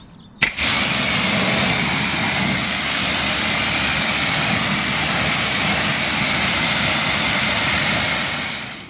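Water spray rinsing a dirty car: a brief click, then a loud, continuous hiss of close water spray that holds steady to the end, with no one speaking.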